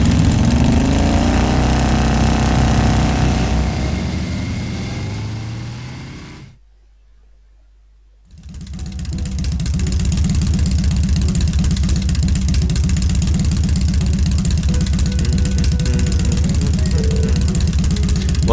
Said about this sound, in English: The sheer speed, the engine's vibration, the feeling of the wind as you ride along.